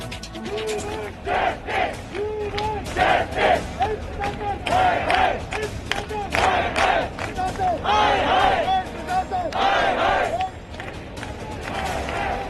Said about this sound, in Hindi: ताली बजाकर नारेबाजी हो रही है।